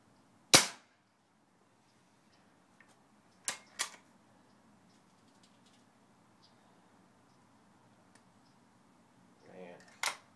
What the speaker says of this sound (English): Get some shots of that can when I shoot it.